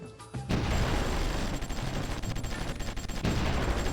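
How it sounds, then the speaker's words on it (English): Bombardment in a strategy war game battle over Oslo: a loud, continuous barrage of heavy booms and rapid gunfire-like bursts that starts abruptly after a brief quiet moment and rumbles on without letting up. "There's someone bombarding that."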